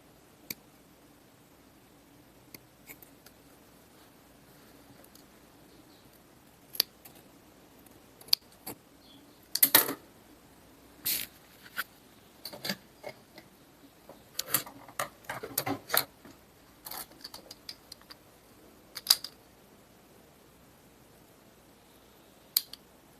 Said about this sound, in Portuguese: Aí você corta bem até a costura, sem cortar a costura.